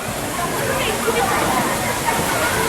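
Water rushes and splashes steadily at a water-powered wheel in Knoebels Amusement Park, a loud, dense sloshing roar that carries on without a break from start to end.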